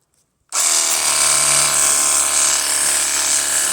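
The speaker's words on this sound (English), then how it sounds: "This is the handheld pressure washer. It's battery operated." A battery-operated handheld pressure washer switches on abruptly and runs with a steady, loud motorized whine and spray hiss, close and alone without pause.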